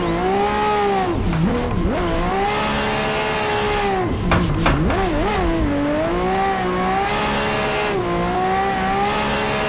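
A Lamborghini Murcielago drifts in a racing sim game, its engine note wailing and dipping through throttle blips and sweeping pitch changes, loud and continuous with tire noise mixed in, and no talking over it.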